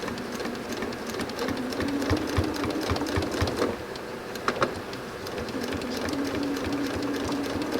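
A sewing machine runs steadily, stitching quilt fabric pushed under the foot with a stiletto, its fast even whir continuing close and alone for several seconds, with a few brief clicks midway.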